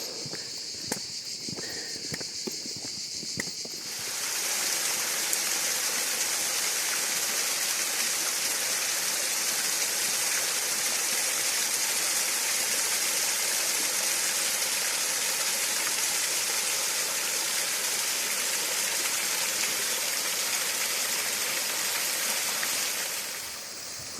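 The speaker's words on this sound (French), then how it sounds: "Les chemins sont remplis de petites cascades." Small waterfalls trickling beside hillside footpaths in the Ardèche mountains: after a few seconds of quieter ambience with scattered ticks, a steady, loud broadband rush of falling water holds evenly to the end, close by, with no one speaking.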